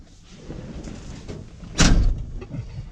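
A 1955 Chevy truck door thuds shut as someone gets in, one heavy, loud slam about midway through, preceded by soft shuffling and rustling movement nearby.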